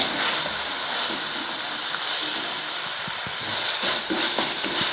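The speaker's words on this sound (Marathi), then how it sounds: "मिरच्याला पण ह्याच्यामध्ये भाजून घ्यायचे आपल्याला" Green chilies sizzle and hiss steadily in hot oil in a pan, a continuous close frying crackle with a few small pops and no voices.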